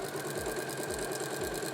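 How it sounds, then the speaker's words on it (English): A sewing machine running steadily, stitch length set to about 3, sewing through layers of Bosal fusible foam, with a continuous close whir and a faint regular stitching pulse. "I've taken my stitch up to about 3, and then I'm just going to sew all the way through those layers."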